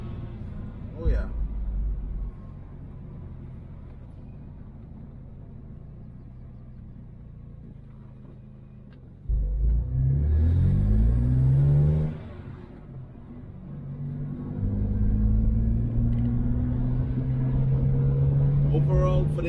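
A BMW 335's engine idles with a low rumble, then revs up twice through its exhaust, rising and falling in pitch, loud and close, with a slight exhaust rattle.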